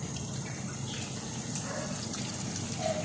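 Water pours steadily into a cooking pot of bopis, a continuous splashing gush at close range with no voices over it.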